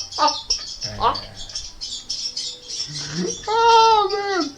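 Recorded bird sounds played from a bird channel on a radio, with squawks and chirps close by, ending in a long rising-and-falling call, while a person talks throughout.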